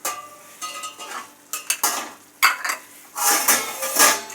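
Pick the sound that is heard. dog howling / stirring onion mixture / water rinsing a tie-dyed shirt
stirring onion mixture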